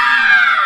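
A human voice imitates the scream of a large bird of prey with a single sustained, high, piercing shriek, held steady and close for under a second.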